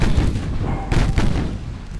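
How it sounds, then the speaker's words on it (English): Naval 6-inch guns firing in the warship game Ultimate Admiral Dreadnoughts, a loud continuous barrage of overlapping booms and rumbling blasts. "there's a lot of 6-inch gunfire going on."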